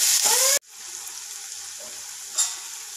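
Raw mango bhaji sizzling and frying in a pan as it is stirred, a loud burst of scraping and sizzle that cuts off abruptly, followed by a low continuous fry with a brief later stir.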